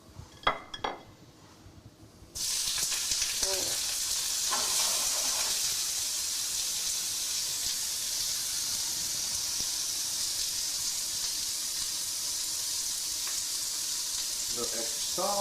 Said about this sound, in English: we're getting our pan hot as it's reducing right here